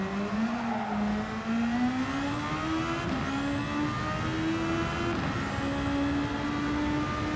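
A Formula 1 car in a racing game holds a steady high engine whine that climbs gradually, with brief upshift breaks around three and five seconds, loud and continuous with no talking.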